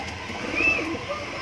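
Homing pigeon hen giving a soft, low coo near the middle of a short stretch, faint against a steady background hum, with no talking.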